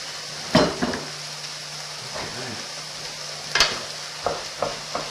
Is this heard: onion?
yes